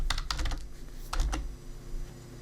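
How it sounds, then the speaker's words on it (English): Keys clatter on a computer keyboard in two quick bursts of typing, close and fairly loud, with a short pause between them and no voices. "once you've typed any text you want to appear before your contact form, just hit return on your keyboard"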